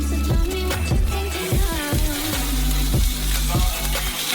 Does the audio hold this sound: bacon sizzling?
yes